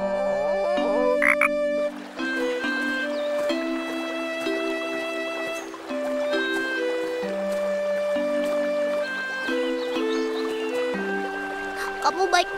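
A cartoon frog croaks in a lake scene, the croaks repeating over a steady tuned musical score that plays continuously and loudly throughout.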